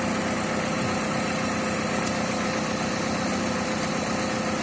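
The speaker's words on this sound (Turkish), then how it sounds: "Şimdi aracı çalıştırdık" An LPG-fuelled car engine idles steadily just after starting, a loud, even rumble that stays close and constant with no break.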